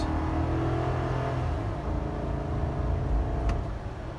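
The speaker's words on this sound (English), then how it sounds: "This is a wide open throttle." A 2020 Chevrolet Silverado 2500 LTZ gas pickup engine roars steadily at wide open throttle, a loud continuous rumble and whir with rising drone, close and sustained throughout.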